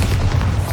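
A Bombarda spell explodes in the video game Hogwarts Legacy with a loud, close, low booming blast that fills the whole short moment, heavy and rumbling with no talk over it.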